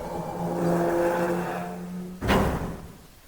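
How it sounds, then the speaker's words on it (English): A heavy metal door in the video game 999 grinds shut over a steady low hum, then lands with a single loud, dull metal-on-metal clang that rings briefly and fades. "The door ground shut with a dull clang of metal on metal."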